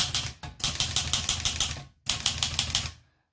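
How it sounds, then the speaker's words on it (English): A vintage Olivetti Lettera 32 portable typewriter from 1970 types in a quick, even run of sharp key strikes, pauses briefly, then goes on, loud and close with no voices. "One of the tests you can always do on alignment is to type the letter"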